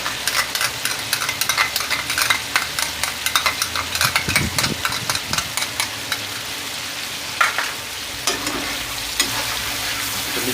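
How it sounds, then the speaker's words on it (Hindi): Chicken pieces for an Afghani karahi stir-fried with ginger garlic paste, a busy sizzle broken by rapid clattering strokes of a spatula against the pan, no voices. "अदरक लहसुन का पेस्ट डालने के बाद 3 से 4 मिनट से ज़्यादा भूनें"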